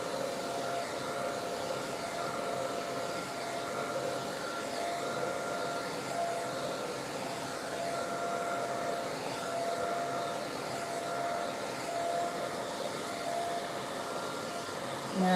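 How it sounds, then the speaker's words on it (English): Handheld hair dryer blowing on hair during a wash-day styling session, a steady continuous whirring drone held close and loud throughout. "with your handheld dryer, okay, you still want to start at the ends"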